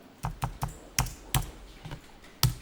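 Computer keyboard keys, including the tab key, are pressed during accounting data entry: about nine crisp, close taps in an irregular rhythm with no one talking.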